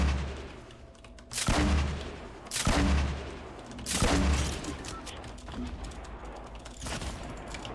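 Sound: grenade launcher explosions in Fortnite video game

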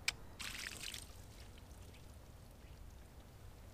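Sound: fish being released back into river water

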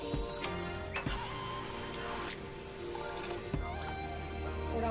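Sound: water poured onto rice and urad dal to soak

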